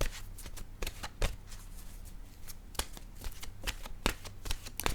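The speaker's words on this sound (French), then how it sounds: "je vais piger une carte de mon oracle de l'âme intuitive" Oracle cards are shuffled and drawn up close, giving a quick run of crisp riffling flicks and soft slaps in an uneven rhythm.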